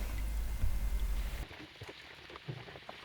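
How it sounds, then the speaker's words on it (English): Steady rain falls near a forest shelter on a hiking trail, a dense hiss that is loud at first and then quieter, with scattered drops and patters close by and no voices. "We spend a rainy day by the shelter, hiding from the rain"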